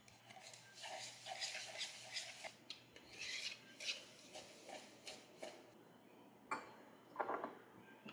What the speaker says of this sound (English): we'll take our little whisk and we'll stir all that together